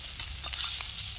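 Corned beef browning in an aluminum pan on a firebox stove: a steady, soft sizzle and crackle of frying meat, close and fairly quiet, with faint scraping stirs.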